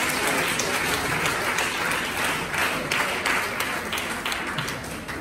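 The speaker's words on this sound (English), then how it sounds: "Yes, let's clap." A church congregation claps together at a funeral service, loud and continuous massed clapping with a faint rhythmic pulse filling the room.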